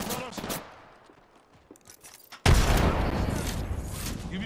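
Gunfire in the video game Apex Legends: a few sharp shots first, then a loud, dense burst of rapid automatic fire that keeps going to the end of the clip.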